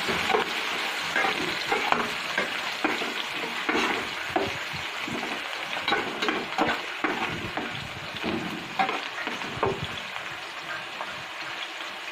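Onions and green chillies sizzle as they are lightly roasted in a pan for fish curry, with a steady sizzle broken by repeated scraping and stirring strokes, close and moderately loud throughout.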